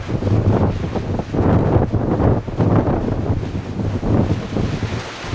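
Steady, loud wind buffets a microphone outdoors beside a small wind turbine with quiet blades, a continuous rumbling roar with gusty swells throughout and no voices.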